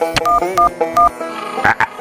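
A telephone is dialed in a Bangla cartoon: three crisp, evenly spaced keypad beeps ring out, followed by a couple of quicker tones, close and loud.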